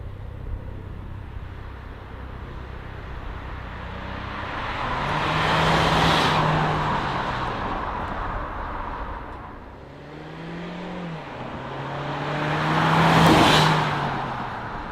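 Peugeot 508 SE prototype in sports mode at maximum performance, a moderate engine note swelling twice as the car accelerates, with road and wind noise throughout.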